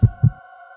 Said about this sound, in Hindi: मुझे खुद अपनी धड़कन कानों में सुनाई दे रही थी।